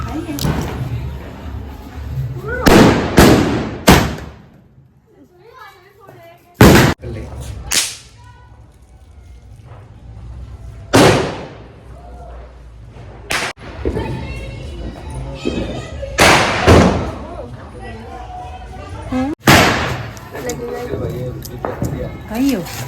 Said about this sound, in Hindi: तो ये सारी आगे की जो भी क्लिप्स हैं वो सारी पटाखे जलाने की है।